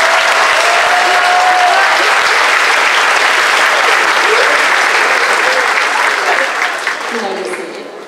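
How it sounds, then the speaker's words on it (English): A large crowd at a 2018 graduation ceremony applauds graduates in a loud, sustained roar of clapping that holds steady before fading near the end, with faint cheers mixed in. "Let's give these graduates a round of applause."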